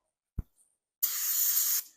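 Brake cleaner is sprayed from an aerosol can onto freshly sanded trim from a 1983 Chevy Blazer, a single steady, loud hiss lasting just under a second, preceded by a soft knock.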